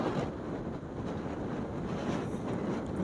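Strong wind roars steadily across the microphone on a road in Ladakh, a continuous broadband rush with no break and no speech.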